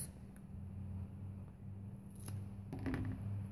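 A few soft, scattered snips of scissors cutting paper for a handmade card over a steady low hum, quiet and close.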